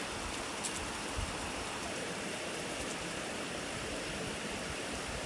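A waterfall near Ouray, Colorado, running low in dry conditions, gives off a steady broadband rush that is even and continuous, heard from a viewing area at moderate distance.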